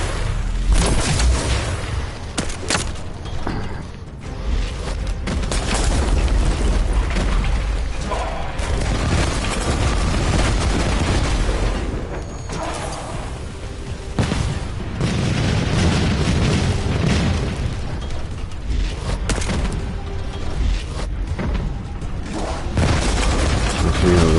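Gunfire and booming explosions from the video game The First Descendant keep up a loud, dense, continuous barrage for over twenty seconds, with sharp repeated shots over a heavy low rumble.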